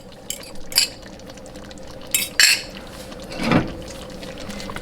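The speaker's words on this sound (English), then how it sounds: "I'm now going to add my butter beans and let this simmer for 5 more minutes" Butter beans go into a pot of Jamaican oxtail stew: a few sharp utensil clinks against the pot, then a soft wet pour and plop as they slide in.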